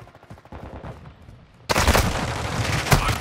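Video game gunfire from Call of Duty Modern Warfare 2: scattered shots at first, then an abrupt loud burst of sustained automatic fire with heavy booming reports.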